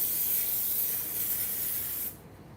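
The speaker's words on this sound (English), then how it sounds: "now we are going to put some spray in" Cooking spray hissing from an aerosol can into a steamer pan, a steady close, bright spray lasting about two seconds before cutting off.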